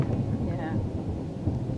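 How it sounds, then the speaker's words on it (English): Distant low rumble of thunder from thunderstorms all around a Kgalagadi camp, a continuous deep rolling murmur, faint and steady across the whole stretch. "Everywhere we look, all around us, we're surrounded by thunderstorms"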